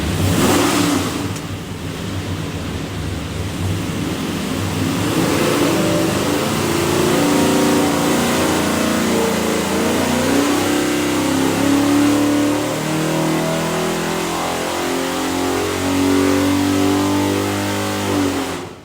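A 582ci big block Chevy V8 with a custom hydraulic roller cam, built for an airboat, runs on a dyno and revs up loud and close, the engine note climbing steadily through a long sustained pull.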